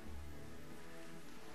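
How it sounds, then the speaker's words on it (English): Steady, faint rainfall in The Legend of Zelda: The Wind Waker hisses continuously with a soft tonal hum beneath it, no voices present. "And it's starting to rain."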